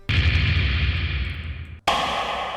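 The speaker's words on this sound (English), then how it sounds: "Electronic drums." Electronic drums in a cinematic music production: a dense, loud processed hit with heavy low-end rumble and bright wash sustaining nearly two seconds, then a brief cut followed by a second loud, bright burst.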